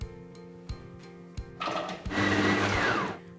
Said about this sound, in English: Let's get everything into the blender.